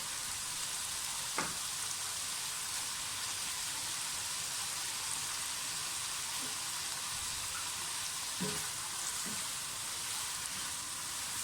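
Onions sautéing in a hot pan for a chicken vegetable spaghetti, a steady soft sizzle that stays even throughout, with a few faint clicks of stirring and no voices.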